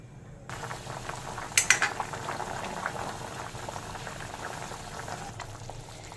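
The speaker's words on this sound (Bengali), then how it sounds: "মিষ্টির যে রস তৈরি করে রেখেছিলাম তার মধ্যে ল্যাংচাগুলোকে আমি দিয়ে দিলাম। এবার এটাকে কিছুক্ষণ ফুটিয়ে নেব।" Langcha, fried semolina sweets, simmer in sugar syrup with a steady bubbling boil and a brief clink of utensils near the start, no voices.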